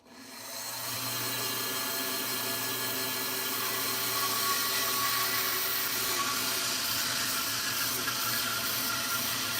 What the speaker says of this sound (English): Let's get to resawing this.